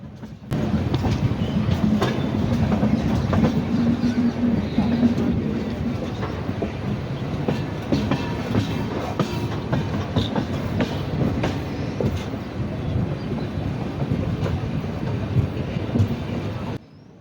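A train rolling steadily along broad-gauge rails departing Thiruvarur, a low continuous rumble with rhythmic clickety-clack and faint metallic squeals, running for a long stretch.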